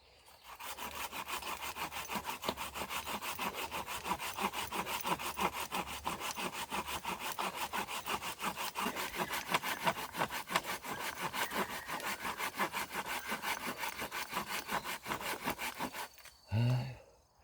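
A hand saw rasps through pine wood in fast, steady back-and-forth strokes for a long stretch, then stops with a brief thud.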